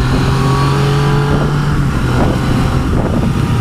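A Yamaha XSR900 motorcycle with Öhlins suspension riding along a winding road, its engine droning loud and steady with heavy wind rush over the microphone throughout.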